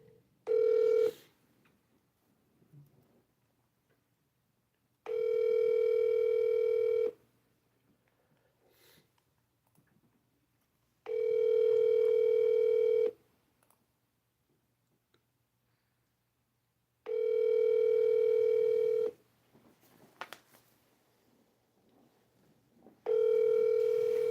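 An outgoing telephone call rings repeatedly while someone waits for an answer. Four long ringback tones, evenly spaced about six seconds apart, sit over near-silence with faint clicks and a sniff between them.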